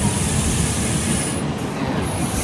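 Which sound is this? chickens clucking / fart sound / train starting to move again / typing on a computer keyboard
train starting to move again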